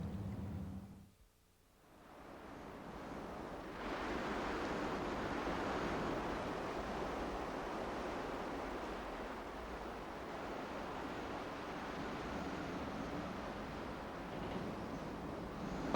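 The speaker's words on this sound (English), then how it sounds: "A wilderness of wind and waves, the most remote of the British Isles." Sea waves roll and break under steady wind on a remote, wild Shetland coastline, a continuous broadband roar of surf and gusts that holds loud and even after a brief lull near the start.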